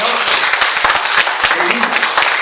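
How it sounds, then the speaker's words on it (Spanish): Church congregation applauding during a Spanish-language sermon: a short, dense wash of clapping with sharp individual claps standing out, moderately loud and steady, with a few voices faintly mixed in. "Un aplauso al Señor."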